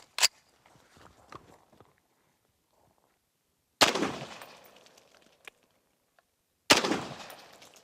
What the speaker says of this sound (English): let's go ahead and shoot these watermelons and see what happens